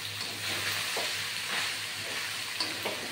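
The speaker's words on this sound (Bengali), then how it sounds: "এটা ভাজা ভাজা হচ্ছে" Vegetable pasta frying in a pan with tomato sauce and chili sauce, a dense, steady sizzle and hiss heard close up, with faint scraping of stirring and no talk.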